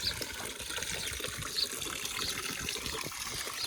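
Water gushes and splashes continuously from a pipe fed by a motor pump, a steady churning flow with a faint mechanical hum beneath it.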